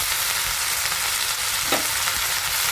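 Fenugreek leaves and stems with green chillies sauté in hot oil in a pan, a dense close sizzle with a soft stirring scrape partway through and no talk.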